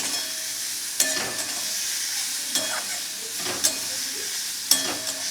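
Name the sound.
frying and stirring radish chechki in pan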